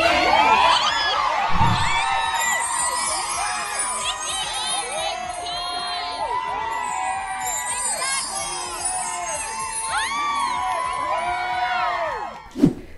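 Fans gathered outside the Met Gala scream and whoop for Nicki Minaj in a loud, busy outdoor crowd, with overlapping shrill cheers, a dull thump early on and a sharp burst near the end.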